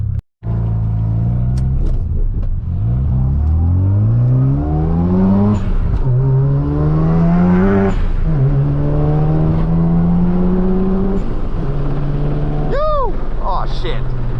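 A Mazda RX-7 FD rotary-engined car revs loudly up and down through its gears, its engine pitch climbing and dropping repeatedly before a sharp high squeal near the end, close and dominant throughout.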